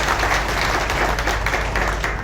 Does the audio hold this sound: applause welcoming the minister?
yes